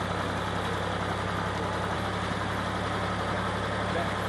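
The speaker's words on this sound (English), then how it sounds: "riding this little Ford tractor" A small Ford tractor engine idles steadily nearby, a continuous low rumble with a droning hum that holds even throughout.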